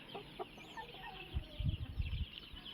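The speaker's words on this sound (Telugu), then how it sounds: "మొత్తం ఎనిమిది కాకిపెట్టలు రెండు నెమలి పుంజులు అయితే ఉన్నాయండి" Hens cluck softly in the background, with a few low, close bursts of fowl noise from hens and roosters near the end.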